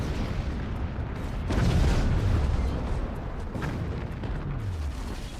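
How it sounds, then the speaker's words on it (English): A battery blows up in the physics-based strategy game Forts, a heavy booming explosion that swells into a sustained rumble with a few smaller blasts trailing off afterward. "Look at the explosion going all the way to the front of my base here"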